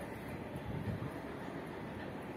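Freight train rolling through Vani Vihar railway station, a steady low rumble of wagons heard at moderate distance, continuous with no talk.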